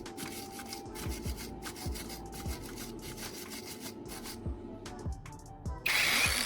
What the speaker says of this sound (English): then a wire brush to clean up the welded areas